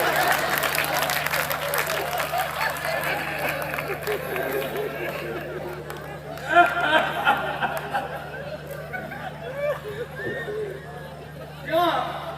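Audience applause and clapping at a Hindi kavi sammelan comedy poetry gathering, a sustained crowd clatter mixed with chatter and laughter that swells in a few bursts. A voice speaks over it.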